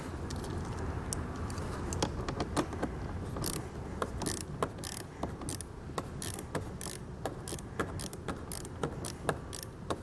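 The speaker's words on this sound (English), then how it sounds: "We'll just tighten the nut back down." A nut is tightened onto a battery terminal stud with a ring terminal on a 2018 Jeep JK Wrangler, a close series of sharp metallic clicks and ratcheting taps over a faint background hum.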